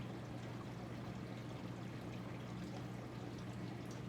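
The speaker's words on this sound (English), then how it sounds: "I am going to pour it, and me and Annie's going to taste test it" A thick green smoothie is poured into a glass, making a steady, continuous liquid stream that runs close and fairly quiet throughout, with no talk over it.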